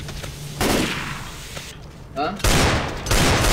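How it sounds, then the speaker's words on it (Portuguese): Gunfire rattles in bursts during a co-op match of Left 4 Dead 2, loud and close, broken by a brief quieter gap where a player's voice is heard. "Quem tá atirando em mim?"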